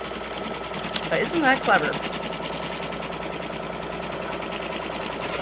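Embroidery machine stitching a zippered pouch in the hoop, a fast steady mechanical chatter running close and constant, with a short spoken remark over it near the start.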